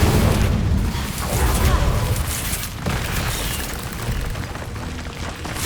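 Confringo and Incendio spells bursting in Hogwarts Legacy, a dense, loud stretch of booming fiery blasts that run together almost without a break, with a few sharper hits along the way.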